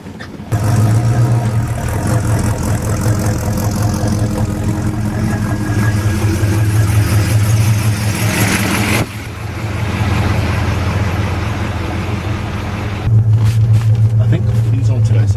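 A 1969 XW Ford Falcon's engine runs in a steady, loud, low mid-pitched drone with a slight dip partway through, while people talk over it.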